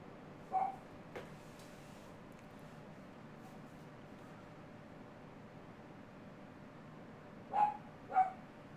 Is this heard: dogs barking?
yes